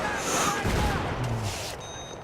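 Battlefield 3 gunfire and explosive spam rattle through a rush match on the Grand Bazaar map, with dense, continuous shots and blasts overlapping at close range.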